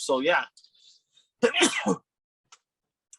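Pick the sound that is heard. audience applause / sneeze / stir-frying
sneeze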